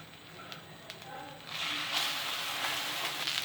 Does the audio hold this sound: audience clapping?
no